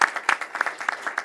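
Audience applause at a bill-signing event on voting law modernization, a short burst of scattered, fairly light clapping with distinct individual claps rather than a full roar.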